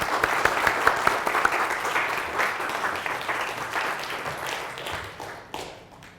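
A lecture audience applauds to welcome Professor Grace Davey, with steady, dense clapping that starts strong and gradually thins and fades out by the end.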